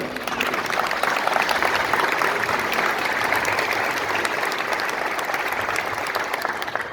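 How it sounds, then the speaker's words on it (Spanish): Sustained, dense applause from a crowd at an indigenous Nahuatl community consultation in Ixtolco de Morelos, honoring the dignitaries at the presidium table, loud and steady throughout. "le brindemos fuertes los aplausos a todas las personalidades que hoy nos acompañan en la mesa del presidium"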